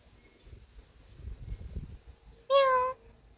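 A cat gives a single clear meow near the end, loud and close after a stretch of soft rustling and background noise.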